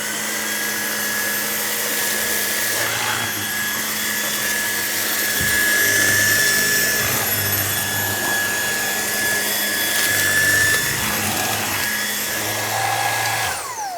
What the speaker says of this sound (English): which is the motorised tool, and hopefully with this it just makes life a little bit easier when you're vacuuming on carpet